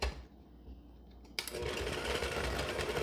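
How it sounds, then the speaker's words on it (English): An electric hand mixer creaming butter and granulated white sugar for a cranberry orange coffee cake, whirring on low speed, switching on abruptly after a quiet pause and then running steadily and close. "we're just going to take our hand mixer"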